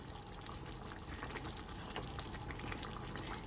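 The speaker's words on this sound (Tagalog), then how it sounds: "kumukulo na" Litchon paksiw stew bubbles steadily in a pot, a soft continuous boiling with small pops, faint and close, with no other sounds over it.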